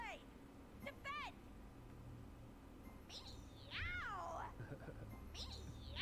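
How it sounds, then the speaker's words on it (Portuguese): Cat meows from the Kitty Kaboom Serqet voice pack in a video game, several rising and falling mews in short bursts over steady game background noise. "É um gato mesmo, é um gato."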